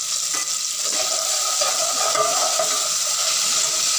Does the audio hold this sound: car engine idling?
no